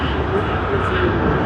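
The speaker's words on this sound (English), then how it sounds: "Has begun its takeoff roll, I should say," Jet engines of a Philippine Airlines airliner on its takeoff roll at Sydney Airport, a steady, broad roar at even loudness with no talk over it.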